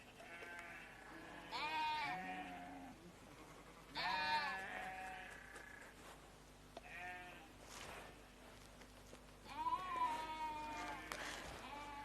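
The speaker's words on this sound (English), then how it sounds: "But I think we need to put a sheep in here." Sheep bleat several times, wavering calls spaced a few seconds apart, close and fairly loud over a quiet background.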